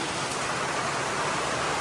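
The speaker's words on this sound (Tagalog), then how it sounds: "dahil lumakas na ang ulan" Heavy rain pours steadily on an island, a dense, even hiss filling the whole stretch with no voices or breaks.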